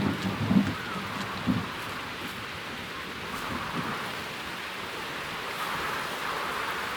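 Steady rainstorm from the video game Whispers of a Machine, a continuous hiss of rain with a couple of low rumbling thumps early on, holding at an even level with no talk.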